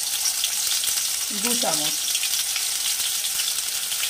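Ground whole spice paste sizzles and fries steadily in a pan for a vegetarian Bengali meat dish, a loud, continuous close hiss with a brief spoken voice over it.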